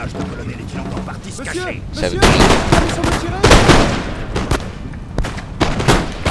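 Musket volleys crackle close and loud in Napoleon Total War, with repeated rattling bursts of gunfire layered over battlefield noise and a voice talking.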